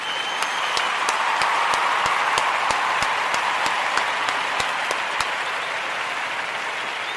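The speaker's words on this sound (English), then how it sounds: "we want to give all of those Kujichagulia babies a round of applause." Audience applause for Kujichagulia babies on a daily Kwanzaa program, a steady wash of clapping throughout with sharp individual claps standing out over a continuous roar.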